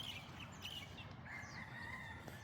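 A rooster crows with a drawn-out call on a Hawaii morning walk, over steady outdoor background noise, with other fowl sounds mixed in.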